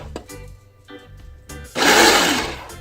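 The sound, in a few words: Ninja Ultra Prep blender running with water to clean blade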